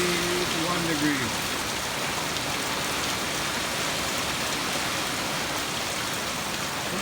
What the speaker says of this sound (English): it's raining now. It just started. I can hear it outside from inside.